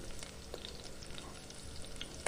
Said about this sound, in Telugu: ఈ పోపునంతా కూడా బాగా వేయించుకోవాలి